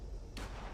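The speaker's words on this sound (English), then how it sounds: "Bullets are flying." Gunfire in Fallout 76, a single sharp muffled report cutting into a low rumbling backdrop, heard quietly and at a distance without any voices.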